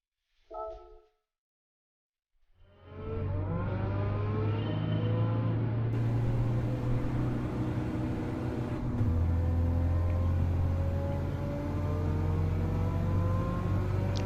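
A first-generation Volkswagen Beetle, a rear-engine car, in Gran Turismo 7 starts after a short blip, then its engine hums and revs steadily, pitch climbing through gears with a shift partway, loud and close.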